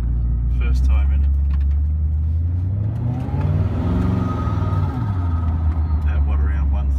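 A 2017 Koenigsegg Regera accelerates at about one third throttle, its engine note swelling and climbing in pitch through the middle before settling back into a smooth, loud, close cabin drone over a heavy low rumble.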